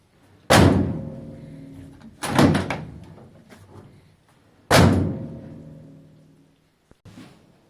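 Three heavy thuds a couple of seconds apart as the doors of a Triumph TR7 are refitted and shut, each a solid slam with a short ringing tail, followed by a softer knock near the end.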